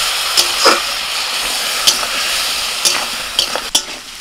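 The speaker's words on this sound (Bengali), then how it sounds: "অল্প একটু জল দিয়ে ভালো করে আলু আর কচুটা মশলার সাথে কষিয়ে নেব।" Potato and taro chunks with Kashmiri chilli powder, cumin powder and a splash of water sizzle in a pan, with a steady hiss and several sharp spatula scrapes and taps at irregular intervals.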